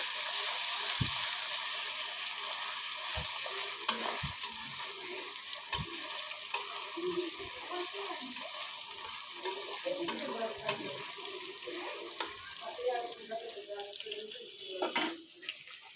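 Onions crackle and sizzle steadily in a hot pan as they fry toward brown for a broiler chicken bhuna, with a few sharp clinks of a utensil against the pan.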